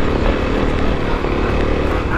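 A Kawasaki KLX250 dirt bike climbs straight uphill through snow on an enduro trail, its engine a loud, steady, rough drone that holds close and continuous throughout with no pauses.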